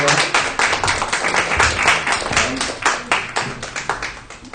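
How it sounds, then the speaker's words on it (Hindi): A church congregation claps in a brisk, uneven rhythm of distinct hand claps, close and lively, with some voices underneath. "हम उसके लिए भी तालियां बजाएंगे"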